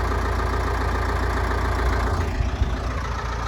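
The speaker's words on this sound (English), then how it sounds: "this old Deutz Alice tractor didn't really want to start. Took a little bit of convincing, so we got her going though." An old Deutz-Allis tractor engine idles steadily on a cold morning, a loud, continuous low rumble with a few small knocks and surges near the end, and no voices.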